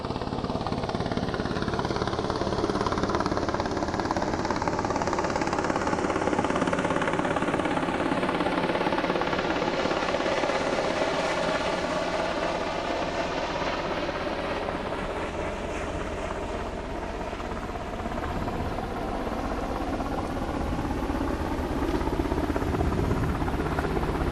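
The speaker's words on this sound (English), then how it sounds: "You can probably hear it, but I'll direct your attention to the sky in MH-60R Seahawk, piloted by Lieutenants Brad Donaldson" A Royal Australian Navy MH-60R Seahawk helicopter passes overhead, its rotor thump and engine roar steady and fairly loud, swelling and fading with wind noise over about twenty-four seconds.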